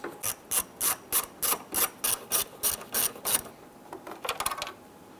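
A ratcheting tool loosens 7mm screws on a headlight panel of a 1995–2001 Ford Explorer, producing a regular series of close, crisp clicking strokes followed by a shorter, quicker cluster.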